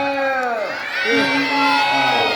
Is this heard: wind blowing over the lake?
no